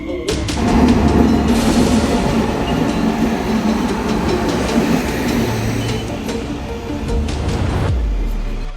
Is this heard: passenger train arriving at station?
yes